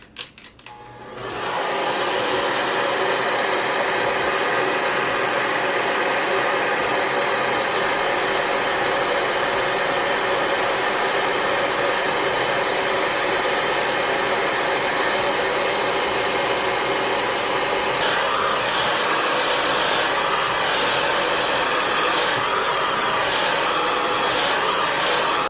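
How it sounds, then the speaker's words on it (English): A blow dryer switches on and runs with a steady, loud whooshing roar up close, its tone shifting slightly partway through. "you want the blow dryer going at the same time"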